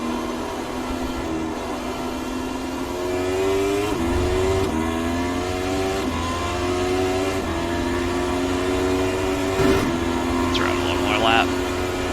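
A McLaren MP4-30 Formula 1 car in iRacing at Silverstone, its high-pitched engine droning steadily with rising tone and several gear shifts breaking the pitch, while someone talks over it.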